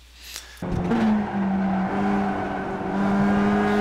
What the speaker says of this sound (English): I just did a small blip there because my minimum speed was starting to get down too low